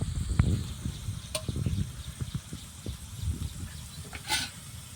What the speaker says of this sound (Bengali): এবার মাছগুলো ঢেলে দিলাম, একটু কষি নেবো